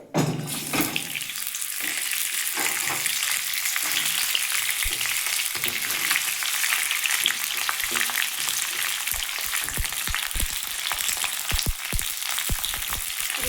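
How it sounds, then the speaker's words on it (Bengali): Broad beans frying in hot oil, a loud, dense, continuous sizzle and crackle close up, with occasional sharp spatters and pops as the beans settle in the pan. "তেলটা গরম হলে আমি শিমগুলো একটু ভেজে নেব"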